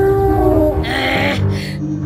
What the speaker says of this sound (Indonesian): Ibu dinosaurus menggunakan suara ini untuk memanggil anak-anaknya.